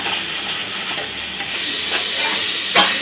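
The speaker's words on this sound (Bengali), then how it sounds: "এখন মশলাটাকে কষায় নিব ভালোভাবে।" Masala for a prawn dish fries and is stirred in a pan, giving a steady loud sizzle and hiss with soft scraping stirs and a brief clatter near the end.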